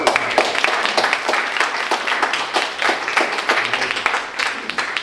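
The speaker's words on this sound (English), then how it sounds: "let's give a round of applause." A conference crowd claps steadily for several seconds, dense overlapping hand claps at a fairly loud, even level.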